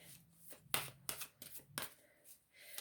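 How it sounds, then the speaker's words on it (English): Angel oracle cards shuffled by hand at close range, a run of quick crisp riffling bursts and slaps with short pauses between, quiet and alone. "I'm going to have a good shuffle."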